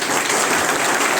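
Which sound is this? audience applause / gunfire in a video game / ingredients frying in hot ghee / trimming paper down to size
audience applause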